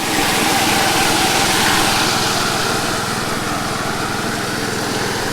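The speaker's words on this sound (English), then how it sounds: "I also got a P90 pump, Honda. It's great. Handles this box almost just barely above idle, maybe a third throttle at most." A Honda P90 pump engine runs steadily just above idle beside a highbanker sluice, a continuous close buzzing drone with no break throughout.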